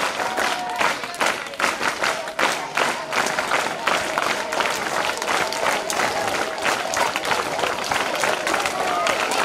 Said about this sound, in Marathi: अशा टाळ्या वाजत राहायच्या आता.